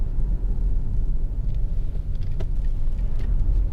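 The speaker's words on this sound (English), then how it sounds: "you hear the engine revs rise, and then the car just catches up with that" A Lexus RX 400h 3.3 hybrid SUV with a CVT gearbox pulls under acceleration, giving a steady, loud low rumble of engine and road noise from inside the cabin, with no voices.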